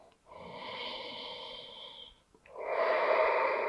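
A deep inhale during a shoulder stretch, followed after a brief pause by a slow, louder exhale, both airy and close to the microphone, with no talking.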